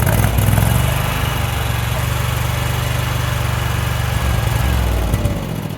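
A small engine runs steadily with the choke on, a loud close drone with a low throbbing idle that holds for the whole stretch and eases slightly near the end.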